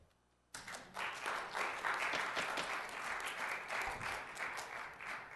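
An audience claps at a city council meeting. A short quiet stretch gives way to a burst of sustained, fairly loud clapping from many people that holds steady before easing slightly.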